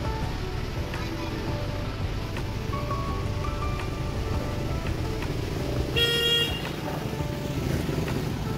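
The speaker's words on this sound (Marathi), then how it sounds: "चला गाडीचा हॉर्न वाजतोय" A vehicle horn honks on a roadside in the Malshej Ghat hills near paddy fields and a river, a short toot standing out over steady traffic and wind noise.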